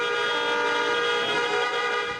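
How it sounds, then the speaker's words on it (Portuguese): Sustained car horns honk together from a protest motorcade of drivers heading to City Hall on a city street, a loud, continuous blaring chorus of tones with no talk over it. "Vamos fazer um buzinaço para sair aí!"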